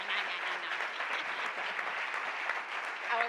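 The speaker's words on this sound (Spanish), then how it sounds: "Les pido un aplauso de bienvenida para Rosa Montero." An audience at a literary event welcomes a writer with sustained, even applause from many hands, dense and steady throughout, with a voice starting to speak right at the end.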